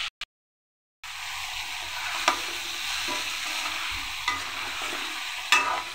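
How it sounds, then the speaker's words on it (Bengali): Vegetables and fish head being stir-fried in hot oil with spices for a Bengali chachchari, a steady close sizzle with occasional clacks of the stirring spoon after a brief silent start. "এবার আমি এখানে একে একে যে সবজিগুলো রেখেছিলাম সেটা এখন আমি এখানে দিয়ে দেব, দিয়ে খুব ভালো করে কষিয়ে নেব।"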